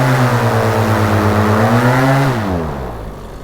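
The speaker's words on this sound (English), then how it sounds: "it's humming, but the propeller's not spinning." Light aircraft engine idling with a steady loud drone and strong harmonic hum that dips in pitch and fades toward the end, no talk.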